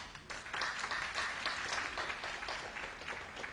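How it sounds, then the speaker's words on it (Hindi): Applause from a seminar audience, dense steady clapping for a participant, loud and sustained across the whole stretch with no voices over it. "जोरदार तालियां एक बार"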